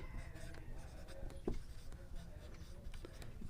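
Pen scratching on paper while working a Class 10 circle geometry problem, faint irregular strokes and taps close to the microphone with a brief sharper mark partway through.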